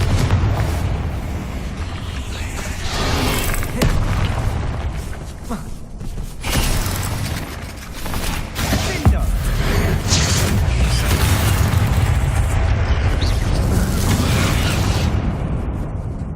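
Confringo spell explosions burst in a Hogwarts Legacy battle, with loud booming blasts and rumbling impacts over a dense, continuous game soundtrack, while voices shout spell names amid the chaos.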